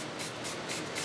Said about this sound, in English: and I'm just going to spritz fairly generously